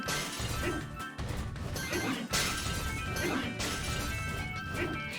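Giant Yoshi crashes and smashes through scenery in Yoshi's Woolly World, a run of loud, close crunching impacts and shattering bursts one after another over game music, with no talk.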